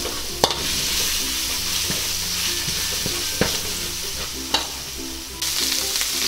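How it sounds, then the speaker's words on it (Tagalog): Shredded garlic frying gently in a pan on a low stove, a steady soft sizzle with a few sharp clacks of a utensil against the pan, no voices. "Hihinaan lang natin yung stove para hindi masunog yung bawang natin."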